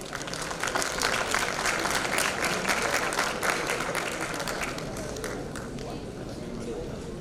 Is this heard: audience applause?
yes